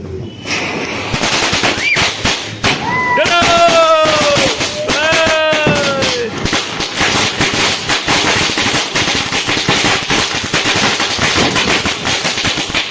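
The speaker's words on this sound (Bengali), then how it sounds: "তো গাইস বাজিগুলো খুব দুর্দান্ত ফাটছে, হেভি হাই স্পিড বাজি আছে।" Three firecrackers lit together during a Kali Puja celebration burst in rapid, loud crackling volleys, close by and continuous, with sharp high-pitched whistling streaks rising over the barrage.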